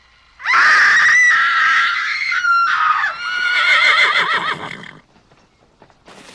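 A person imitates a horse's neigh on a drama set, a loud, close, wavering whinny-like cry lasting several seconds, rising and breaking into shaky trills before fading.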